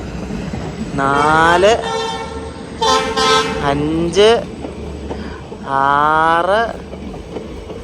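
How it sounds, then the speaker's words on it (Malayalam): A short passenger train passes a station, sounding several loud, drawn-out horn blasts in a steady rhythm close by, while a voice counts the coaches over the rumble. "കുഞ്ഞു കുട്ടി പാസഞ്ചർ ട്രെയിൻ, അടിപൊളി"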